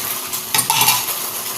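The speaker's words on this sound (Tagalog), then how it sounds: "Hugasan ko lang itong mga natira ditong mga hugas." Leftover dishes being washed, with running water rushing and a short clatter of utensils and plates in the middle, close and fairly loud.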